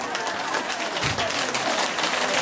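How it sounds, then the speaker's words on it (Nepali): A crowd claps at the Govardhan Annakut festival inside the Lakshminarayan temple, a brief, dense burst of applause with no talk. "यी 2टा हातले भगवानको सन्निधिमा गोवर्धन उत्सवमा ताली बजाउन दिए हो"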